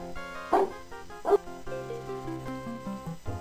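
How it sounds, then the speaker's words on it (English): A dog in the video game Return to Zork gives two short, loud barks about a second apart, followed by game music, with no talking. "Just click on her to get her to bark, so we can have that in our sound recording."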